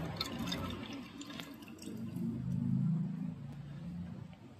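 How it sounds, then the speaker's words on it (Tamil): Soaked ingredients are swished and rinsed in a bowl of water by hand, with soft sloshing and dripping that swells in the middle, close and fairly quiet, with no talking. "சரி இதை நல்லா அலசி எடுத்துக்கிட்டோம்."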